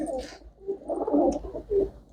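Pigeons coo in a series of low, rounded calls close by, swelling and fading in a rough rhythm across a few seconds, with no talk over them.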